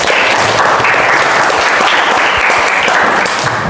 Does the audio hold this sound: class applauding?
yes